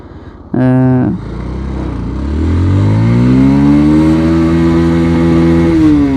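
A Bajaj Pulsar DD 150 motorcycle opens with a short sharp rev, then accelerates in first gear with its engine note climbing steadily and holding high, loud and close throughout.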